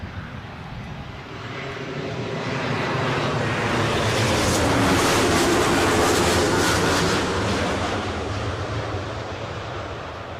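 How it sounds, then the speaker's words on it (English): A Lufthansa Embraer 190 airliner, the long-range edition, at Newcastle airport produces a broad jet roar that swells steadily to a loud peak mid-clip and then slowly fades, heard alone without talk. "So I can hear the Lufthansa"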